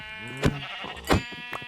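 Sheep bleating in Minecraft, two distinct wavering bleats about half a second apart, followed by a fainter third call, close and clear over a steady tonal background.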